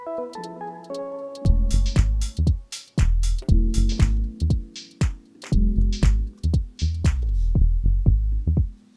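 Plucked, bell-like music notes ring out in a steady pattern, each one trailing off into a spacious, echoing tail.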